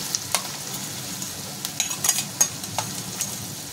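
Dill greens (shepu bhaji) frying in oil with a steady sizzle, broken by quick scraping stir strokes that cluster in the middle, close and moderately loud, with no talking.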